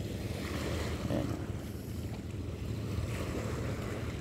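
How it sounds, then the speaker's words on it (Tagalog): Wind buffets the microphone at the seaside while waves wash and surge in the background, a constant loud blustery roar with no clear breaks. "Nasa may tabing dagat ako guys."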